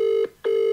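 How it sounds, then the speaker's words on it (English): A UK phone ringback tone purrs while a call to a McDonald's restaurant connects, a steady loud tone broken by one short gap before it resumes. "I am ringing them because I want to pre-warn them that I'm coming."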